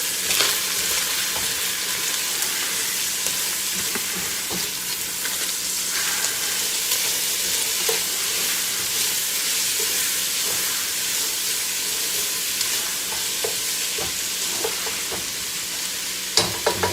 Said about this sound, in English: Got the Italian sausage cooking in there.